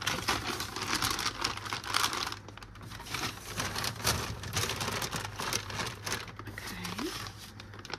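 Continuous close crinkling and rustling of an IKEA plastic bag being handled and folded, with faint background noise.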